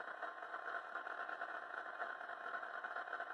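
A model SD40-2 diesel locomotive's sound unit idles steadily at an even, moderate level, a continuous mid-pitched drone with no talking.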